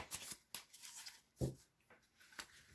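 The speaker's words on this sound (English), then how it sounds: "So let's give the cards a good shuffle." Tarot cards being shuffled by hand, with soft papery riffles and slaps coming in a few short bursts, close and fairly quiet.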